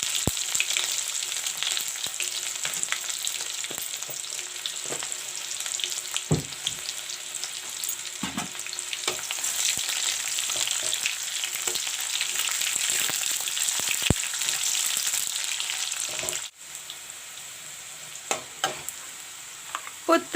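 Sliced onion with cumin seeds and dry red chilies fries in a pan for a spiced beans and potato curry, a steady close sizzle with frequent stirring clicks and scrapes, softening near the end.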